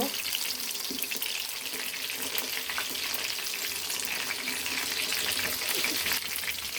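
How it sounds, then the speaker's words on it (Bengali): Chicken pieces for chicken chap fry steadily in a pan of oil, a dense, even hiss that holds at a constant level throughout with a faint watery crackle and no talk. "বেশ কয়েকবার উল্টে পাল্টে আমি মাংসগুলো ভেজে নিব"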